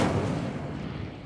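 In Hogwarts Legacy, the Incendio fire spell goes off as a short, dense whooshing burst of flame, loud and broad at the start and then settling into a steady roar.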